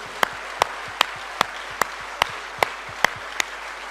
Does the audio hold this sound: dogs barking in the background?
no